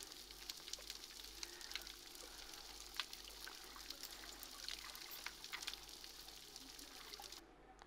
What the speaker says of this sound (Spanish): cuando viajamos a un arrecife de coral que está degradado, es como si a esa orquesta le hubiéramos quitado los instrumentos